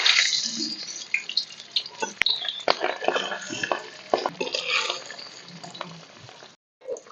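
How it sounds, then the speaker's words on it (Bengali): Pabda fish frying in mustard oil in a kadai, a loud, busy crackle of spattering oil with sharp pops and clicks throughout, briefly cutting out near the end. "কড়াই দিয়ে দিয়েছি সর্ষের তেল মাছগুলো প্রথমে ভেজে নেব"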